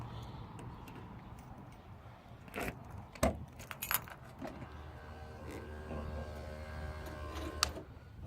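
Car keys carrying an original dealership tag jangle on a 1983 Buick Park Avenue, a few metallic rattles and clinks in short bursts over a quiet background hum, close and fairly soft.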